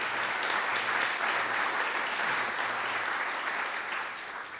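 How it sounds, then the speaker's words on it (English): Sustained, dense applause from an audience at a community college district board of trustees meeting, loud and steady throughout before easing slightly at the end. "give him a round of applause"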